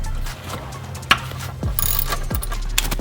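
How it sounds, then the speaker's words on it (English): A socket ratchet clicks and pawls steadily while loosening the oil drain plug under a Porsche 718 Cayman/Boxster, with a few sharper metallic knocks over a low background hum. "we're gonna go ahead and loosen up the drain plug"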